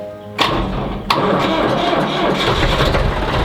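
A huge farm tractor engine, cold and warmed with glow plugs first, cranks and catches with a loud thump, then runs in a steady low rumble close by.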